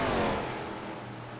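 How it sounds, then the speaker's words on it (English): A Gen 6 Cup race car's engine blows at Daytona, a loud, harsh engine roar that starts strong and gradually falls in pitch and volume as it winds down. "Blown engine for the 30."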